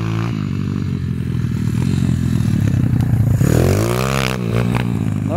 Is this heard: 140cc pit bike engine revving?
yes